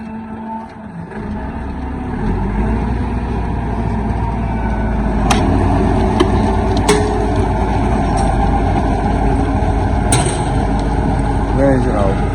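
A tractor hauling a Happy super seeder while sowing wheat in a Punjab, Pakistan field, giving a steady low engine rumble with a few sharp clanks, as someone talks over it.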